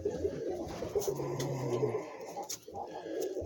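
A pigeon coos, a sick female kept as a breeding bird, with low, throaty repeated coos close by and some light rustling and clicks around them.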